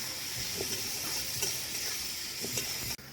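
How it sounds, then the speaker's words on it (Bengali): Potatoes and onions frying in a pan with salt, turmeric and a little sugar, a steady close hiss and sizzle with faint scrapes of stirring throughout. "খানিকটা ভাজা ভাজা হোক"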